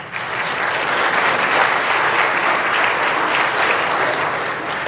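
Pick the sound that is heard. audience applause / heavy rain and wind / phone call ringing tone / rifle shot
audience applause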